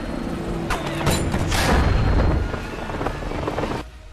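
Helicopter firing and being shot down in the 2007 film Shooter, a loud dense rumble of rotor noise mixed with booming gunfire and impacts that swells in the middle and cuts off near the end.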